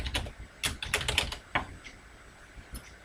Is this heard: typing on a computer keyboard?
yes